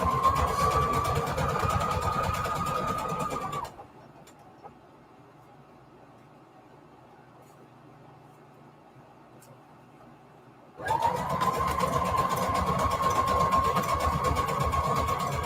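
A sewing machine runs in a steady whirring drone, stops for several seconds of near quiet, then starts up again at the same pitch.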